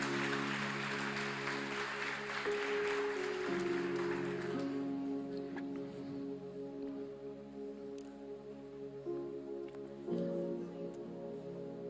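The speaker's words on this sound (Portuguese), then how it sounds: "você pode aplaudir o Senhor?" A church congregation applauds the Lord for several seconds, a dense burst of clapping that stops abruptly while sustained keyboard chords carry on alone, shifting notes now and then.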